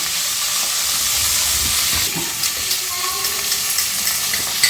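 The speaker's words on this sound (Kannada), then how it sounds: "ಈರುಳ್ಳಿ ಹಾಕ್ತಿದ್ದೀನಿ ಟೊಮೊಟೊ ಹಾಕ್ತಿದ್ದೀನಿ" Onion and tomato frying in oil for a Gowda-style chicken curry, giving a loud, steady sizzle with stirring scrapes throughout.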